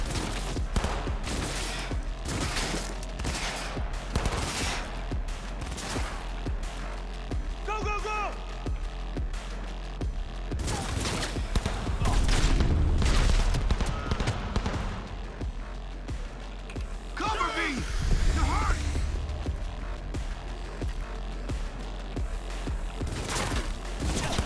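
Bursts of gunfire in the video game Cyberpunk 2077 run through a long stretch of steady game noise, mixed under speech, with louder volleys in the middle and near the end.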